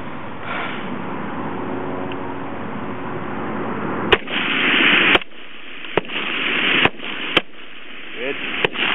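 Highpower rifle rapid-fire string at a 300-yard range, with six sharp, loud gunshots at irregular intervals in the second half over steady background noise, as a coach talks earlier.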